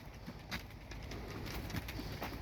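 Racing pigeons at a loft coo softly and repeatedly, low throaty calls rolling under steady background ambience with no talk.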